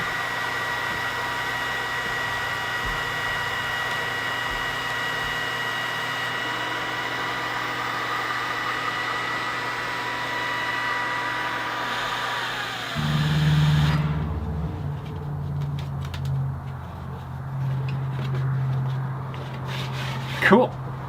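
An xTool D1 Pro laser engraver cutting a sign gives a steady whirring drone of fans and motor movement for a long stretch, then shifts to a louder, lower hum with brief bumps toward the end.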